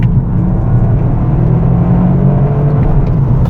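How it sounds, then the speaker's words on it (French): Toyota GR Yaris 2024 with its small turbocharged three-cylinder engine, heard as a steady, loud, close engine drone with a deep low hum and slight rising rev, continuous with no talking. "ce moteur, c'est un petit 3 cylindres, mais il a la force d'un 5 cylindres turbo"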